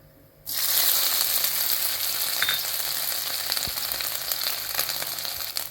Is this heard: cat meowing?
no